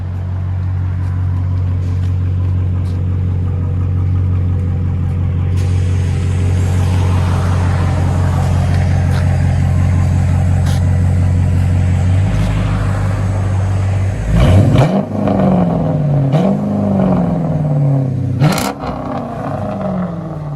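A 2018 Dodge Charger R/T with a 5.7L HEMI V8 and straight-piped dual exhaust rumbles at a deep idle, then climbs through sharp revs and blips near the end, loud and close.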